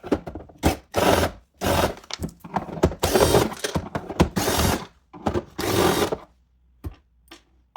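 Screws are backed out of an Aloha Breeze 06477 desk fan to open its casing. Bursts of ratcheting, rattling mechanical noise come up close and loud, separated by short pauses, then trail off into a few faint clicks.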